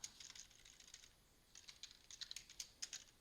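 Rapid, irregular keystrokes on a computer keyboard, close and fairly quiet, coming in two bursts with a short pause between them and no talking.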